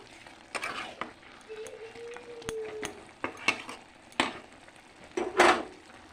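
A spoon scrapes and stirs bottle gourd curry in a pan, giving several irregular close clanks and scrapes against the metal over a quiet background, with one brief soft tonal squeak in between.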